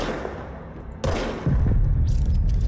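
Service weapon gunfire in the game Control: a sharp loud shot bursts out, followed by a heavier booming volley and rumbling impacts at close range.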